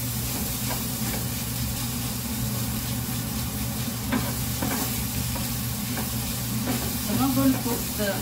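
Methi leaves and potato mixture sizzling in a pan as it is stirred, with a steady low frying hiss and scattered scraping stirs, growing a little busier near the end; a voice is faintly present.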